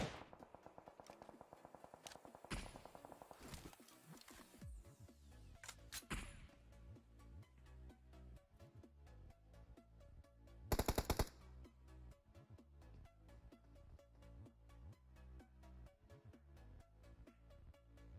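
Gunfire in the PUBG Mobile battle royale game, a steady rapid rhythm of shots running through the whole stretch, with a loud close burst near the middle over a busy in-game sound bed.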